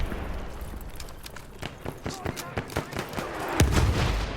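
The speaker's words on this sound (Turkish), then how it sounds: "Bomba geldi bak yine." In Battlefield 1 on PS4, a barrage of battlefield gunfire pops and thuds steadily, then an artillery shell bursts close by with a loud, heavy boom near the end.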